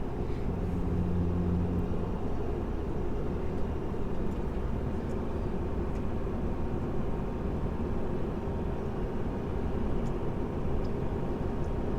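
A Ford Powerstroke Super Duty truck towing 14,500 lbs at highway speed in fifth gear, heard from inside as a steady, loud, unbroken engine and road drone with no talk.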